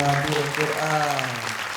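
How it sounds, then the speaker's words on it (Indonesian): Studio audience applause for a young Quran memorizer on an Indonesian televised competition, steady clapping throughout with a speaking voice and music tones running over it. "Tepuk tangan untuk Farah."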